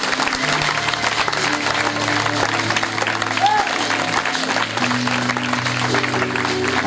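A church congregation at a special seminar claps and cheers in a sustained, loud ovation, with music or voices sounding faintly beneath the applause.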